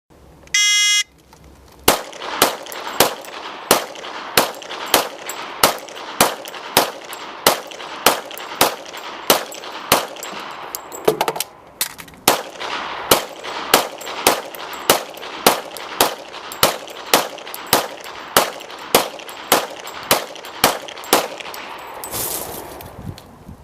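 Gunfire from a firearm emptying two 15-round magazines at three targets in a sheriff's demonstration: loud, sharp shots in a steady rapid rhythm, broken by a brief pause for the magazine change midway, then continuing to the end.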